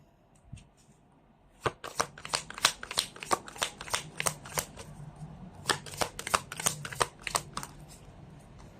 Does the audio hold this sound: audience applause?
no